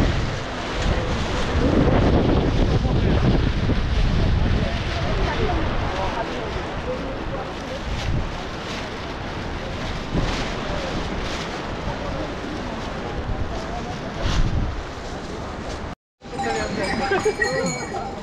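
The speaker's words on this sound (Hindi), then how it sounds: "स्नोफॉल बंद हो गई है, लेकिन हवा चल रही है ठंडी।" Cold mountain wind gusting loudly on the steep trail to Kedarnath after snowfall, a constant broadband roar buffeting the microphone for the whole stretch, briefly cut off near the end.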